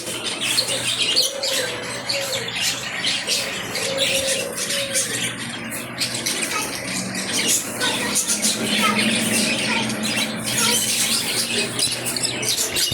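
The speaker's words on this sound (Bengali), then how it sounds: "বাজিগর পাখির অনেক কালেকশন, হাড়িতে হাড়িতে বাজিগর, খাঁচায় খাঁচায় বাজিগর" Many budgerigars chatter and squawk together in a busy, continuous din at a bird shop, with occasional cooing and faint background voices.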